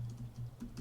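Quick keystrokes on a computer keyboard while coding a game script, several soft close clicks in a loose irregular rhythm over a faint low hum.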